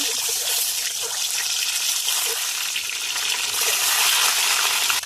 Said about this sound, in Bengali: এবার কড়ার মধ্যে আমি তেল দিয়ে দিলাম। ডিমগুলো আগে ভেজে নেব।